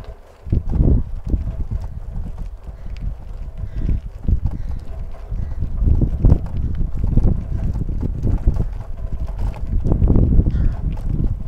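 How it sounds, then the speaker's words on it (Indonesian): Strong wind gusting past a microphone outdoors near an empty house in Japan, heavy low rumbling buffets that swell and drop in irregular bursts, with no talking. "Anginnya kenceng."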